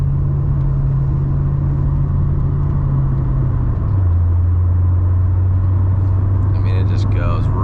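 A vehicle engine held at quarter throttle, picked up by a GoPro, gives a smooth, steady low drone that drops slightly in pitch partway through, with wind and road rumble close by.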